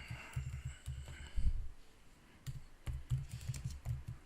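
Someone types a search on a computer keyboard, with quick bursts of soft, close key clicks broken by a short pause and then another run of taps.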